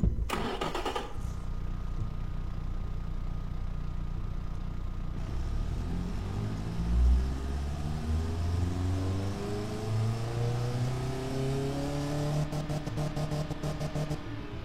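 A car engine on a dynamometer starts and runs up through the revs, the pitch climbing steadily as it pulls toward about 110 horsepower, loud and close with a short burst of clatter at the start.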